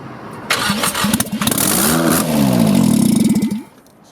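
A Nissan 240SX S14 with a naturally aspirated SR20DE cranks on starting fluid, fires and revs unevenly for about three seconds, then sputters out as the fuel burns off, loud and close.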